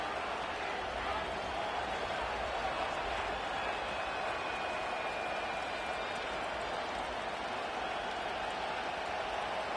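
Steady roar of a large stadium crowd at a Packers football game, dense and continuous throughout with no breaks.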